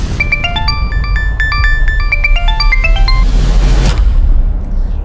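Melodic phone ringtone chimes in bright repeating note patterns over a low background hum, ringing loudly for several seconds before cutting off.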